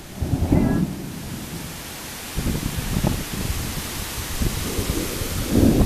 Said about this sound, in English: It's like a mist of rain.